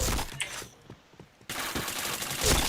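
Rapid automatic gunfire in a shooting video game, dense bursts of close shots in two runs separated by a brief lull, with faint talk in the background.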